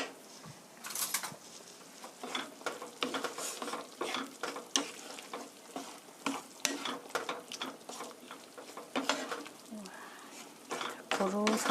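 Cheese slices get stirred into tomato sauce for rigatoni in a pan, with a steady run of close scraping and squelching stir strokes over a soft bubbling sizzle, and voices come and go beneath.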